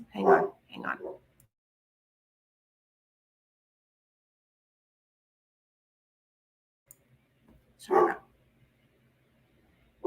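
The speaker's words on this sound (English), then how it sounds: "that's my dog barking because he just heard he hates fire alarm chirps" A dog barks in a short burst of two or three loud, close barks, then falls quiet before one more bark rings out near the end, with a person briefly speaking.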